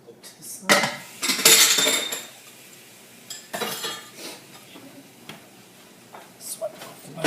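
Dishes and cutlery moved aside on a kitchen workstation, with clattering clinks and scrapes arriving in several bursts between quieter pauses while a person talks.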